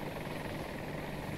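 Little Bird helicopter in the Battlefield 2042 video game, a steady close rotor and engine drone, loud and continuous throughout without a break.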